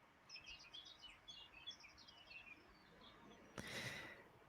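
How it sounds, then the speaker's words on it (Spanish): Faint small birds in Villanueva de Jiloca, Spain, chirp and twitter in quick bursts in the distance, over a quiet hiss, with a brief louder rustle near the end. "se pueden oír los pajaritos de fondo de Villanueva de Jiloca."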